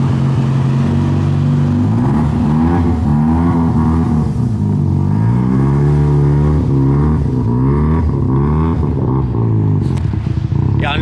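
Rotary-engine car revving hard through Vibrant oval piping and a Racing Beat universal muffler, a loud, close, continuous raspy drone that rises and falls in pitch over several throttle blips.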